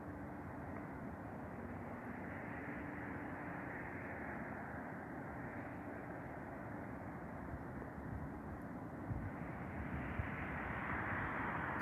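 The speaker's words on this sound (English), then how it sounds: "that was a plane" An airplane passes overhead as a continuous low roar that holds steady, then swells slightly toward the end. It sounds distant and fairly faint, with no voices.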